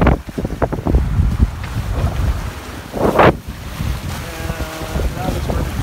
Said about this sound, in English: we are unfortunately sailing once again directly into the wind.